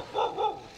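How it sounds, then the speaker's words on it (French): Two quick barks from a dog at close range, loud and sharp, with no talk over them. "Et tout le monde aboie, hein."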